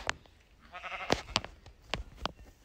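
Minecraft sheep bleating, a short wavering bleat amid several sharp clicks and taps, fairly close and quiet with no talking.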